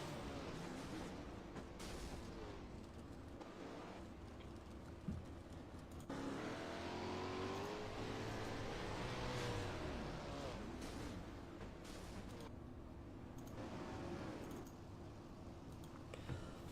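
Onboard a 410 sprint car racing at Lanier, the engine drones steadily and rises and falls in pitch as it revs through the laps. It is heard faintly and continuously with no talk.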